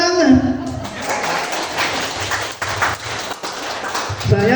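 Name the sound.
audience applause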